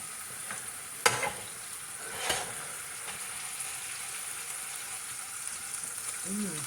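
Food browning in an uncrowded pan, a steady soft sizzle close by with a couple of sharp clinks and scrapes from utensils, no talk over it.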